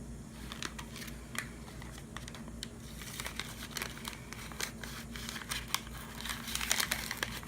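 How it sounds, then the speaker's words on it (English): A paper towel crinkles and rustles continuously as it is crumpled and rubbed over a surface, with steady close dry scratching and scattered crisp crackles throughout. "I am going to take a paper towel to wipe it off for sanitary reasons."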